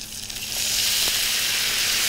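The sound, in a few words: pan deglazed with white wine, sizzling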